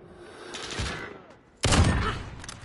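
Two heavy shots from an AX50 sniper rifle in Modern Warfare Search and Destroy boom loud and close, the second sharper and followed by a ringing tail, with a voice talking nearby.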